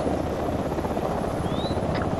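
A helicopter in the military video game Arma 3 drones steadily and loudly throughout, a continuous rotor wash with no break and no voices.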